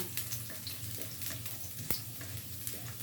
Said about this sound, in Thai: เราจะเจียวกระเทียมสดให้หอมก่อน